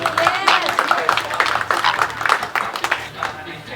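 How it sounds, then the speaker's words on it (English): A tour crowd at a Bahamas zoo's flamingo show claps and cheers as the pink birds reach their first stop, uneven nearby clapping mixed with loud talking and excited voices. "a nice big round of applause as they come to their first stop"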